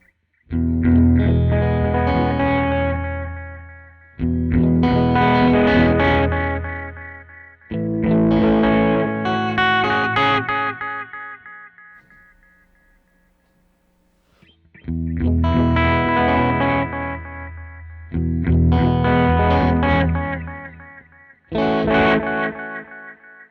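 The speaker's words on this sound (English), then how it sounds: "You can really hear that tremolo." Guitar chords run through an OTIS Love Beams Cosmic Echo pedal with its tremolo effect, heard as repeated strummed phrases that ring out, pulse and decay, with a quiet gap in the middle.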